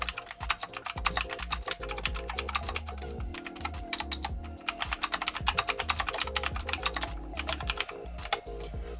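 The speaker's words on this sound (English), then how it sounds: "I can go and start typing more on the notes." Fast, continuous typing on an Epomaker Ajazz K870T wireless mechanical keyboard, a dense run of crisp, close keystroke clicks over quiet background music, with no talking.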